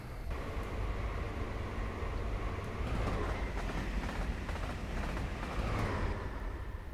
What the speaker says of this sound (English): Oh yeah, there's another train catching up with a.